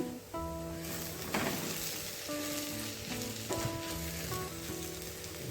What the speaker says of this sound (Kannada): ಈಗ ಶುಂಠಿ ಬೆಳ್ಳುಳ್ಳಿ ಪೇಸ್ಟ್ ಸ್ವಲ್ಪ ಹಾಕ್ಕೊಳ್ಳೋಣ ಚೆನ್ನಾಗಿ ಇದನ್ನು ಕೂಡ ಫ್ರೈ ಮಾಡ್ಕೊಳ್ಳೋಣ